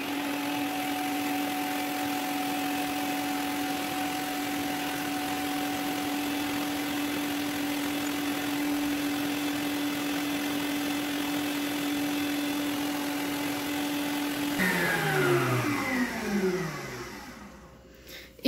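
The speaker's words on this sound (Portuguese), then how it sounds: "Então, eu vou começar a bater 1 minuto em velocidade lenta." An electric mixer beats powdered whipped cream at slow speed, giving a steady, even motor hum that holds for a long stretch, then winds down and stops at the end. No one talks over it.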